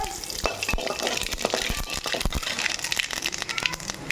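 Mustard seeds crackle and sizzle in hot oil while tempering lemon rice, a steady close frying hiss with many sharp pops scattered throughout and occasional stirring scrapes.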